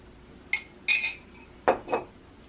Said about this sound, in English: I can just spoon some of the froth off the top